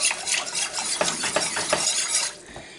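Milk being whisked into a tuna noodle casserole sauce in a pot, a steady close scraping swirl with rhythmic strokes and a light sizzle, fading out near the end.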